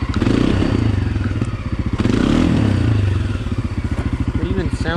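Can-Am DS250 ATV engine with its carburetor spacer removed, revving at high RPM in a loud, rough, pulsing drone close by, rising and easing with rattling clatter from the machine throughout.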